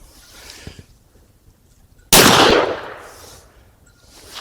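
A single loud gunshot from a Rossi Brawler pistol firing Grizzly .45LC ammunition, a sharp close blast with a long fading ring-out, standing alone with no talk around it.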